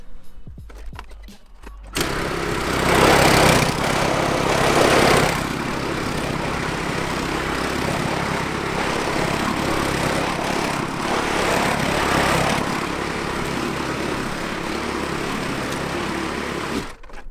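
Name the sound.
lawn mower picking up scarified lawn debris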